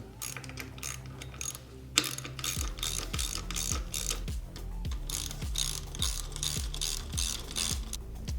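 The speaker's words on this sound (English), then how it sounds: "Grab your wrench and the 13mm socket and the 6mm hex tool to tighten these 2." Rapid ratcheting clicks from a wrench with a 13mm socket tightening the steering damper bolts on a RoadRunner RS5, repeated close-up strokes in a steady rhythm with no talking.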